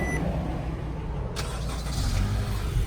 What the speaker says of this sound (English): I'm going to go ahead and remote start the car. Car will crank right up.